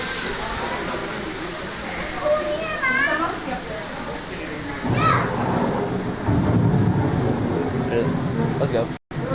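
A simulated rainstorm pours through a zoo's indoor rainforest exhibit, a dense roaring wash that surges louder about halfway through, with people talking over it.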